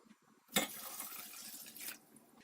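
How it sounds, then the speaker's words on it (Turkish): Water pours steadily into a pot onto sugar for over a second, a rushing splash starting abruptly and fading out, close by and fairly quiet. "Şekerin üzerine 1 litre de su ekliyorum."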